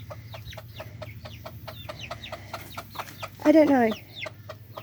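A backyard rooster clucks in short repeated calls, then gives a louder burst partway through, over a low steady hum. A person speaks briefly.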